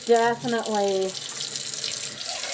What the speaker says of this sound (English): as I add a little bit more water